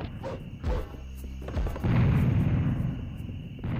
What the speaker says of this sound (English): Then shoot some grenades. Kill them like this.